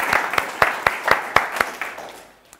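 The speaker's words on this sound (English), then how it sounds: "Come on, give her a round of applause for that share." An audience at a motivational talk claps a round of applause, a quick irregular run of sharp hand claps that thins out and fades near the end.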